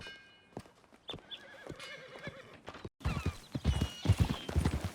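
Horses in the Western game Red Dead Redemption 2, with repeated whinnies and snorts, then a burst of loud clip-clop hoofbeats as riders set off at a steady trot close by.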